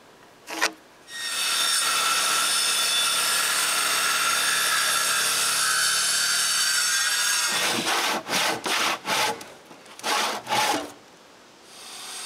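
Wooden rafters for a cottage woodshed are cut at a 14-degree angle with a power saw, first a short blip, then one long, steady, loud cutting pass, followed by a series of short rasping strokes.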